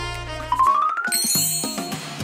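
Small Christmas bell jingling with bright, ringing tinkles that start softly, then build into a cluster of overlapping chimes that shimmer and fade, heard alone and close.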